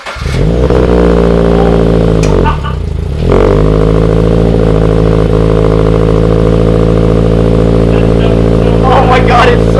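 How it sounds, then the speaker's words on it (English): Scion FR-S fitted with an ARK Design twin racing exhaust revs hard, loud and close, with a sharp dip as the throttle blips between sustained raspy engine roars. "And now I'm going to show you guys what it sounds like with this new ARK Design twin spec racing exhaust."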